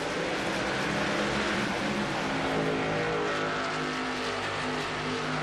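A field of stock cars in an ERA Winston Cup Series race at Atlanta roars as one dense, loud, sustained engine wash, the pack accelerating together after the pace car pulls off, with no voices over it.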